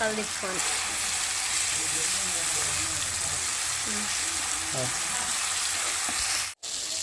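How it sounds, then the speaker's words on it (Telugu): Ginger garlic paste frying with onions in a pan makes a steady close sizzle and hiss from start to finish, with occasional stirring scrapes and a brief drop near the end. "అల్లం వెల్లుల్లి పేస్ట్ వేసుకొని బాగా ఫ్రై చేసుకోండి"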